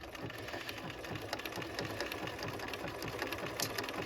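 Sewing machine with a walking foot stitching appliques onto a quilt, running steadily with an even, rapid mechanical chatter throughout.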